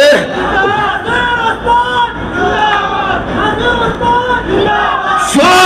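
Crowd making noise, a loud dense roar of many voices shouting and cheering together, sustained with rising and falling swells throughout.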